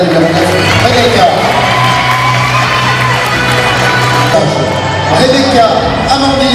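A dense crowd at an evening beauty pageant for the queen of Mèze cheers and shouts for contestant number 9, with loud continuous whoops and voices, an amplified presenter talking over the noise.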